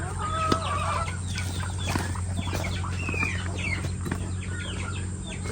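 Native chickens clucking around a rural Philippine yard, with repeated nearby clucks and calls over a steady low hum, with no voices.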